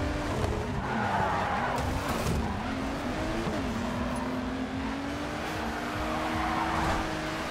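Racing cars in the video game GRID 2 skidding, a continuous engine drone with long squealing tire slides that rise and shift in pitch, fairly loud and steady throughout.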